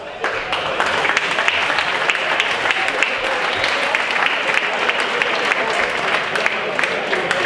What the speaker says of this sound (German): Und dafür ein ganz herzliches Dankeschön und hoffentlich nochmal einen riesengroßen Applaus